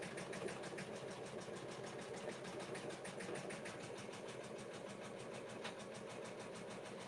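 An embroidery sewing machine stitches an in-the-hoop zipper bag, giving a steady, fast needle rhythm with a constant mechanical hum at low level, uninterrupted for several seconds.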